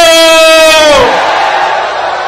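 A loud, drawn-out shouted slogan for Bhutto at a PPP Foundation Day rally in Karachi, its pitch dropping away into a broad, diffuse crowd roar.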